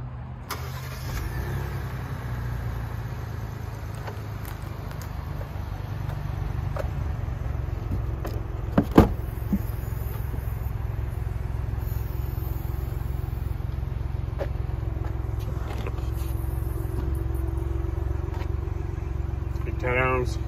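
A 2022 two-door Ford Bronco Wildtrak 4WD with a 2.7L EcoBoost engine, started by remote start, settles into a steady mid-pitched idle that continues throughout, with a brief click near the middle and a voice talking over it.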